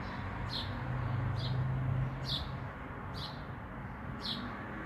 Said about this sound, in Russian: Птицы, семья.